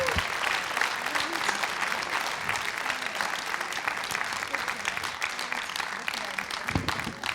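An audience applauds at a Limburg-dialect recitation contest held in Panningen in 2013, with steady, dense clapping from a sizeable crowd for several seconds and a few voices talking faintly underneath.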